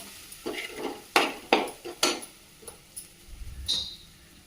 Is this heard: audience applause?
no